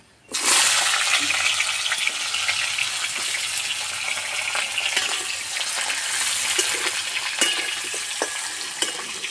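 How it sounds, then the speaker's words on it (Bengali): Raw green banana pieces sizzle vigorously in hot oil left from frying tilapia, a steady loud crackling hiss with small pops, beginning abruptly and continuing without talk. "এই তেলে কলা ভেজে নেব।"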